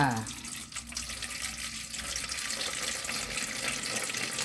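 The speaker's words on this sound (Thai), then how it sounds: "น้ำเปล่าจ้า" Plain water pours steadily for a Thai baked shrimp with glass noodles recipe, a continuous close splashing rush that holds at an even level, with someone speaking briefly at the start.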